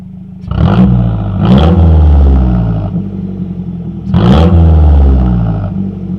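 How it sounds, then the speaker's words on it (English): A straight-piped car engine, a Mazdaspeed6, is blipped to about 2000 rpm three times. Each rev is a loud, close, deep roar over a rumbling idle, with a crackling rise and fall. "I'll give it a 2K rev."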